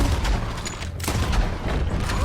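Gunfire in the Red Dead Redemption 2 video game, a dense loud burst of shots layered over game noise with a player talking over it.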